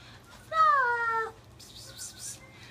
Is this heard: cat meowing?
yes